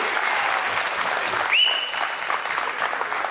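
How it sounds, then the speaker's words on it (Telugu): Applause from an audience at a Telugu movie first-look launch event, a steady wash of clapping throughout with a brief whistle-like tone partway through, loud and close with no voices over it. "సో మన డాలస్ చెప్పినందుకైనా చప్పట్లు ఇంకా మళ్ళీ గట్టి కొట్టాల్సిన అవసరం ఉంటుంది"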